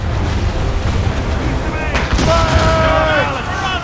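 Ship cannons boom in the video game Assassin's Creed Rogue during a loud, dense naval battle, with heavy blasts rolling under shouting voices and constant battle noise.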